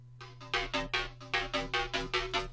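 Metallic synth bass patch built in Serum with no compressor, playing a rhythmic pattern of about ten punchy, buzzing hits with a steady low drone underneath, close and alone.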